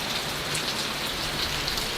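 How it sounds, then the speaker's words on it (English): Steady rain falls on a backyard garden during a tornado watch, a dense, even patter of drops hitting surfaces that continues without pause, fairly close and alone with no voices. "we're getting a little bit of rain"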